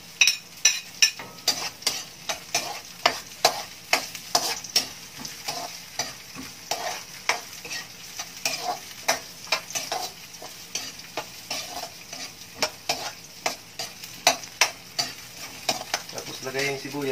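Onions fry in a pan for a mung bean dish under a steady sizzle, while a utensil stirs them with repeated rhythmic scraping taps close by, with no talking.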